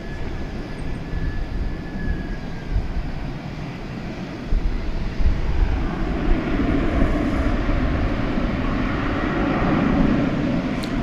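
An Airbus A320neo on a night departure toward Portland, Oregon, at a windy airport gives off a steady, moderately loud engine roar that swells slightly midway, heard alone with wind rumble underneath.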